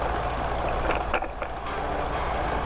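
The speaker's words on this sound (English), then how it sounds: "Just taxiing now back into the hangar area" Microlight aircraft taxiing back into a hangar area: a steady, low engine drone mixed with wind rumble, continuous and fairly close for under three seconds.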